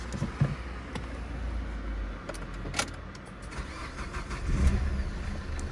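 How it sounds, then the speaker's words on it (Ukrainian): A car engine cranks and starts after being washed at a self-service car wash, heard faintly over steady background noise with a few clicks and knocks. "тепер пробуємо завести наш двигун"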